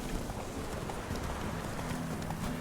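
Horse hooves gallop in The Witcher 3, a steady, quiet, continuous clip-clop running under the game's ambient sound throughout.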